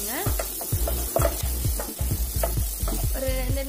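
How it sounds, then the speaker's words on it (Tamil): Sautéed onions with turmeric being stirred in a hot pan, a spoon scraping and knocking rhythmically against the metal over a constant sizzle of frying, close and clear. "லைட்டாக போட்டு மஞ்சப்பொடி வாசனை போகிற மாதிரி நல்லா மிக்ஸ் பண்ணி வச்சுக்கோங்க"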